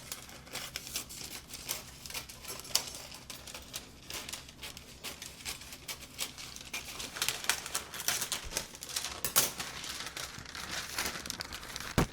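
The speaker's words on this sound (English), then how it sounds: "And next we want to cut inside this circle here." Scissors cutting a paper circle to line a cake tin, with rapid faint crinkling snips and rustling paper, close and steady with a few sharper cuts.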